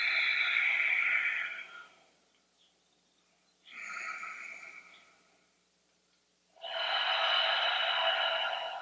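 Slow, deep breathing during a yoga practice: three long, breathy inhale-exhale cycles with quiet pauses between them, close and fairly soft.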